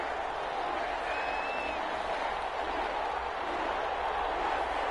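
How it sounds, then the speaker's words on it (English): Stadium crowd roaring in an EA Sports NFL video game before a Tennessee Titans versus New Orleans Saints matchup, a continuous dense wash of cheering and clapping at steady loudness, with no talk over it. "This crowd is ready as their guys get set to match up between the Tennessee Titans and the New Orleans Saints."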